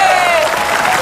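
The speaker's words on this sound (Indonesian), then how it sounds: "Tepuk tangan sekali lagi dong" Studio audience applause fills an Indonesian TV entertainment show, dense and steady at full volume throughout, with a faint tonal sound running beneath the clapping.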